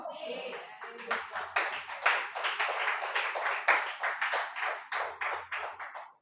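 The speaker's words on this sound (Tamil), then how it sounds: "விட்டாதீங்க, இந்த கைத்தட்டு மறுபடியும் வரணும்." An audience at a Christian faith sermon claps together in a steady run of close, rhythmic handclaps that rise and fall for several seconds, with faint voices underneath.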